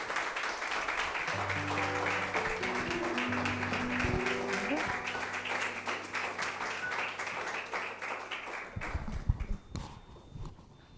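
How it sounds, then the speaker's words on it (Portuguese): Church audience at an anniversary service applauding, a dense sustained wash of clapping under steady organ or keyboard chords, the music cutting off near the end as the clapping thins out. "Eu quero que você aplauda ao Senhor pela vida da apóstola Débora Guilhem"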